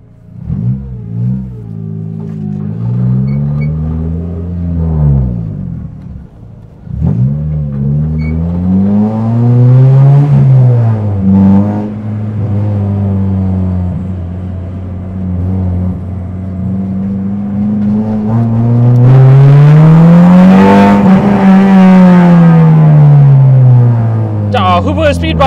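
A K24-swapped Honda Civic EK race car leaves a car meet, its engine revving up loudly through rising and falling gear pulls, close by and sustained, ending in a strong high-rpm surge.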